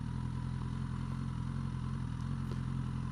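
A Suzuki GSX-S1000F motorcycle idles steadily nearby during a slow turning circle test, its engine a constant low rumble with faint clatter and no talk.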